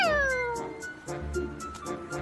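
A cartoon cat gives a long, close meow that slides down in pitch, followed by quieter rustling and soft movement noises, with no speech.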